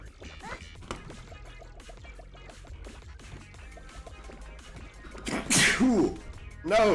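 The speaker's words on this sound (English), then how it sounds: "No, that was a bad time to sneeze." A single sharp human sneeze bursts out near the end, close and loud, after a stretch of quiet game sounds and small clicks.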